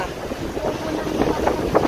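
Strong wind and big waves on open water: a steady, gusty roar buffets the microphone while surges of water wash and splash in brief bursts, fairly loud throughout.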